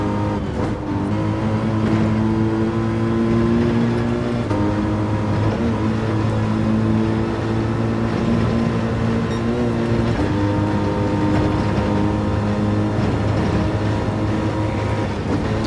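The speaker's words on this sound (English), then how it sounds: "Could hear the cars on my left hand side then" Race cars in Gran Turismo 7 roar steadily with droning, shifting engine tones that rise and fall as they pass, loud and continuous with no talking.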